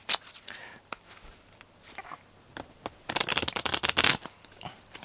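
Close-up riffling of playing cards: a few scattered flicks, then a dense burst of rapid snapping cards being shuffled.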